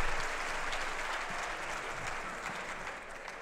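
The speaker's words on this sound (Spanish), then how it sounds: "un aplauso para ellos, por favor" An audience at a cybersecurity conference session applauds steadily for a few seconds, a dense, even clapping that tapers slightly at the end.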